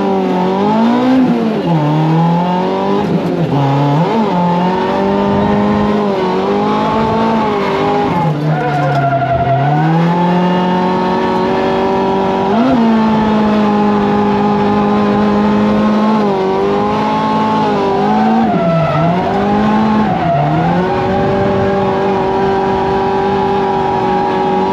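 A car drifts on the hidden Little Rock track at Rockingham Speedway, its engine revving up and down in loud sweeping surges with tire squeal, close and continuous throughout.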